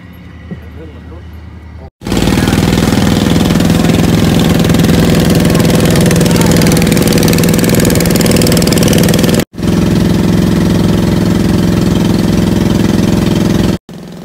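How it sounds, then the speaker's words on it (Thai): A small passenger boat crossing to Ko Kho Khao in Phang Nga runs its engine loudly and close up, a steady droning roar that continues with only brief cuts. "เราจะไปดูกันว่าบรรยากาศของการนั่งเรือโดยสารขนาดเล็กเนี่ยเป็นยังไง"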